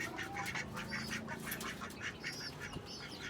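Several ducks quack in short bursts, close by, over a soft outdoor background hiss on a rooftop garden, with no one talking.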